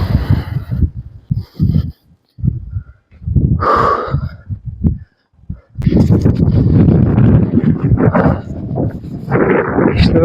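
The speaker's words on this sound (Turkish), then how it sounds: "böyle yükseğe çıktıkça rüzgar da artıyor" Strong, loud wind gusts buffet the microphone high on a mountain in rough bursts with brief lulls, then blow continuously and hard.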